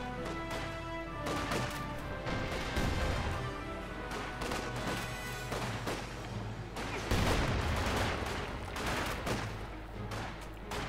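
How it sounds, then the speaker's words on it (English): Mortar and Maxim machine gun fire in the Company of Heroes 2 video game, a busy stretch of rapid gunfire bursts mixed with heavy booming impacts and crashes, fairly loud throughout. "A quick mortar there, and Maxim supporting from the nearby building."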